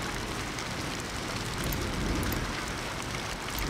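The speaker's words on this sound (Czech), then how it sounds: "Strašlivé krupobytí." The hailstorm ghost power in Ghost Master, a dense steady patter of pelting ice and rain-like noise that holds evenly at moderate loudness throughout.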